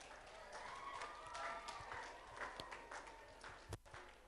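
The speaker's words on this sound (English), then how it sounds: "A big round of applause to our Student of the Year." Audience applause at a school festival, steady and moderately loud for about four seconds with a distinct clap near the end.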